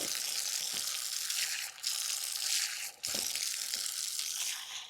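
Water runs from a tap at a village temple on Mankumban island in Jaffna as someone washes their face, a steady bright gushing hiss close by with a couple of brief breaks where the flow is interrupted.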